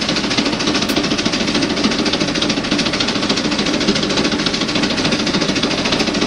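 A steam tractor engine labors under load at about 208 RPM, a loud, dense, rapid chugging and knocking that stays even and close for the whole stretch, without talk.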